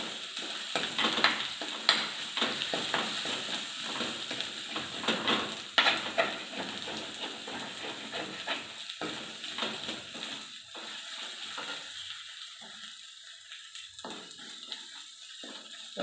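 Curry leaves frying in hot oil in a pan, a steady crackling sizzle with bursts of sharp spluttering early on and occasional stirring clinks, settling to a softer hiss toward the end.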